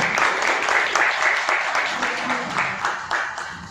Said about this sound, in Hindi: एक बार तालियां और